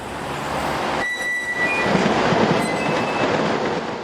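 A Class 26000 electric locomotive hauls a Loire passenger train past, with a loud, steady rolling roar, brief wheel squeals and light rhythmic clatter, heard close by with no voices.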